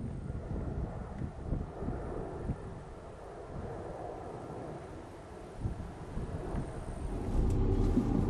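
Dacia Sandero diesel car driving on the road, heard as a soft interior rumble with wind noise that rises and falls gently, then builds toward the end, with nobody speaking.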